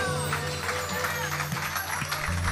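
Church congregation applauding in a sustained, dense clapping wash, with a low steady hum of amplification or music underneath and nobody talking over it.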